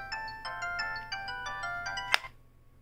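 An AudioVox flip phone closed mid-boot sets off a looping alarm tone, a fast repeating electronic beeping pattern of bright pulses, then a sharp click as it cuts off and falls silent.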